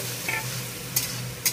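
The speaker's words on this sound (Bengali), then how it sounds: "দেখো আমি কিন্তু চিংড়ি মাছটা ছেড়ে দিয়েছি কড়াইতে" Turmeric-and-salt marinated shrimp sizzle in a hot wok, a steady close frying hiss broken by a few brief sharp crackles and stirring scrapes, with no voices.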